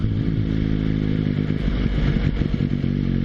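A motorcycle rolls along a road as the rider eases off the throttle toward a 30 limit. The engine drones steadily and loudly close by, with a low rumble and a bit of rattle.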